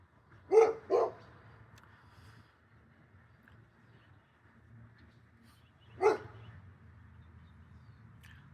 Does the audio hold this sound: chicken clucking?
no